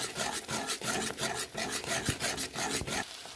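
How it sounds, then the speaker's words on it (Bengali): A spatula stirs and fries spice paste of chilli, cumin and coriander powders with a little water in a pan, giving rhythmic scraping strokes roughly every third of a second, close and alone. "ভালো করে মশলাটা কষে দিচ্ছি।"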